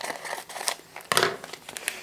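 Short crinkling and snipping as a paper envelope of beefy onion soup mix is cut open in a home kitchen, a few quiet rustles with one sharper crinkle near the end.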